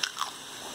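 A homemade fig banana chip is bitten near the mic: one crisp crunch, a second softer chew, then quiet.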